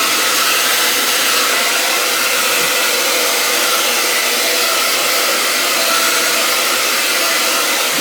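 A hair dryer on its cool setting blows over a wig, a loud, constant rushing whoosh of airflow held close and steady throughout, without speech.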